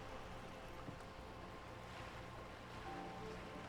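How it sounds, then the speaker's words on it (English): Soft water lapping against a boat hull in the game Disco Elysium, a gentle continuous sloshing wash with low rumble, steady and moderately quiet with no voices. "smiling while the waves lap against the hull"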